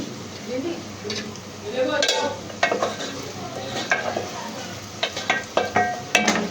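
Onions fry in a pan while a spoon stirs them, with a steady sizzle broken by repeated scrapes and metallic clinks that grow more frequent toward the end.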